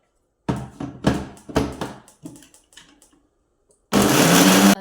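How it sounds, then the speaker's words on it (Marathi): A mixer grinder blends ginger, garlic and coriander into a paste for a chilapi fish recipe, preceded by a few sharp knocks and taps, then a loud steady whirring burst at the end. "तर आता हे सगळं बारीक करायचं मिक्सरला"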